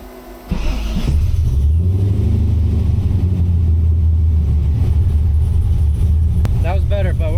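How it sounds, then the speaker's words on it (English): An LS-swapped Mazda RX7 cranks briefly on the starter, then catches and settles into a loud, steady rumbling idle, close up; a voice speaks faintly near the end. "I'm gonna wear the damn starter out on this car."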